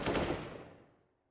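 Gunfire from CS:GO on the map Cache, a short loud burst at the start that rings out and fades over about a second.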